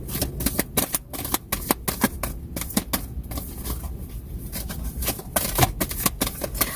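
A deck of tarot cards is shuffled by hand over several seconds, in brisk, close, crisp riffles and flutters in a quick uneven rhythm, with no talking.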